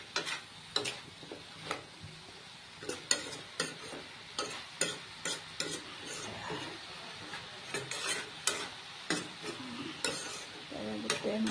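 Spices fry in a karahi, or wok, with a continuous low sizzle under repeated scraping and stirring strokes of a spatula against the metal pan, arriving in an irregular rhythm at close range.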